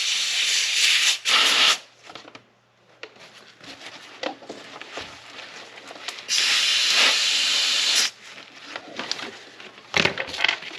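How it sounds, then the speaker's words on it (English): Bursts of compressed air hiss as they are blown into a Porsche 944 rear brake caliper to push out a stuck piston, with loud blasts separated by quieter gaps and small handling noises. "Now, can we push that out with compressed air,"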